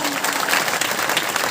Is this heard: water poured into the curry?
no